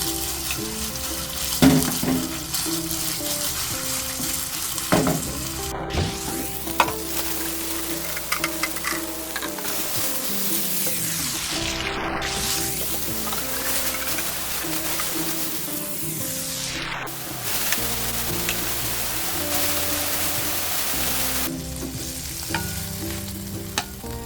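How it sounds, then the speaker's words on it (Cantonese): Marinated minced pork is stir-fried in a wok with a loud, continuous sizzle throughout, broken by repeated scraping sweeps of the spatula and occasional clinks against the metal, with no voices. "我哋炒香呢啲醃好嘅肉碎。"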